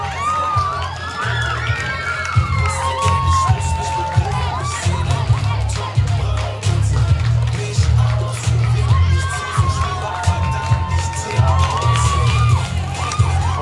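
A school crowd at a dragon boat championship for students applauds and cheers for the Goethe-Gymnasium team, with loud sustained clapping, shouts and whoops, and children's voices rising throughout.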